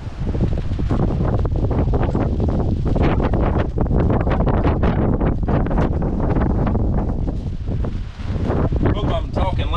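Strong wind buffets the microphone in continuous heavy gusts, roaring and rumbling for the whole stretch, on a rainy day while fishing for flathead.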